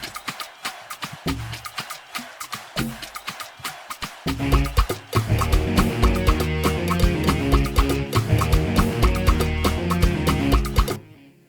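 Sharp clap sounds added to a music beat crack in a fast, steady rhythm. A dense, loud backing track with drums and melody joins partway through and carries on under the claps until a sudden stop.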